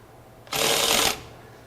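A RIDGID 18V brushless cordless ratchet runs on a torque test rig in one steady, close whirring burst of about half a second, with quiet room tone before and after.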